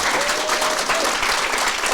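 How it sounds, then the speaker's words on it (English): Audience applause at a professional training event, a steady dense clapping from a large crowd filling the whole moment, loud and continuous. "Can we give her a round of applause?"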